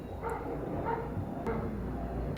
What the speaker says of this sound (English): Is it normal to keep your dog outside at all times in the Florida heat, barking all the time?